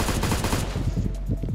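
Rapid automatic gunfire from a troll weapon in a ladder match of a shooter video game, a dense burst of shots filling the first half then continuing more sparsely, with faint voices underneath.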